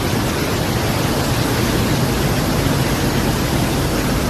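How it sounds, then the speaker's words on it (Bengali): Torrent of water surging through the opened gates of Durgapur Barrage, a steady, dense, close roar that never lets up, with no voices over it. "তো কতটা স্পিডে জল যাচ্ছে তোমার দেখে কল্পনা করতে পারবে না"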